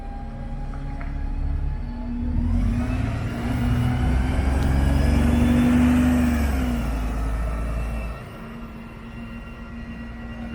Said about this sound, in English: One of the MMC's Enviro 400s.